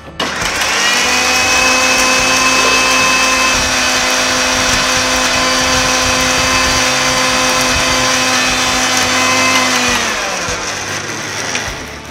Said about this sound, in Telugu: మళ్ళీ ఒక్కసారి మిక్సీ చేసుకుందాం.